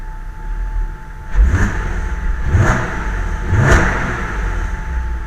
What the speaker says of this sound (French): Regarde-moi la stabilité de ce ralenti.